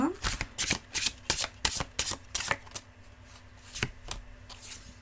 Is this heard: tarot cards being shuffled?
yes